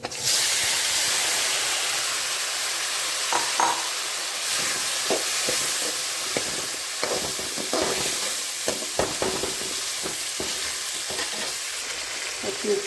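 Tomatoes fry and hiss steadily in a hot pan for tomato rice while a utensil stirs and scrapes them, giving irregular clinks and scrapes over continuous close sizzling.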